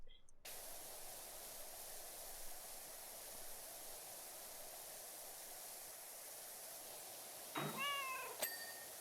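A pet cat meows once or twice near the end, a short close call standing out over steady loud rushing noise from a power washer.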